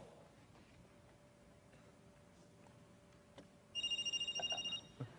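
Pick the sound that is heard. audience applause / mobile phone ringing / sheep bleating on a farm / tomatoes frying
mobile phone ringing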